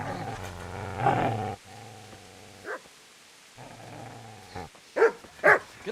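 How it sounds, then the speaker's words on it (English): A dog in the medieval video game Kingdom Come Deliverance growls low and steadily, then lets out several sharp, close barks in quick bursts toward the end. "Get away, you mutt!"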